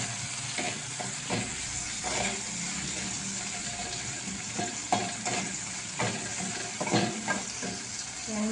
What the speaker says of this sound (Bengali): এর মধ্যে ঢ্যাঁড়সটা দিয়ে ভালো করে কষিয়ে নিতে হবে, যাতে ঢ্যাঁড়সের হড়হড়ানিটা সেন্স মরে যায়।